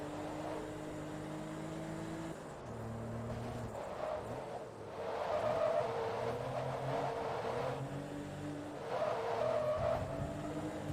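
Race car in the Forza Motorsport 2 video game, an Amateur Cup six-cylinder event, with an engine droning and shifting pitch throughout and brief tire skid noise layered over it, loud and steady with no talking.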